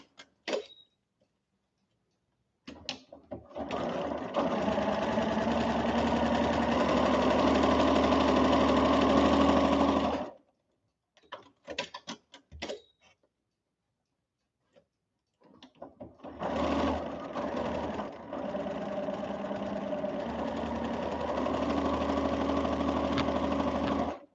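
A sewing machine stitches a quilted clip cushion in two long runs of steady, rapid mechanical whirring, separated by a pause filled with small clicks and handling noises.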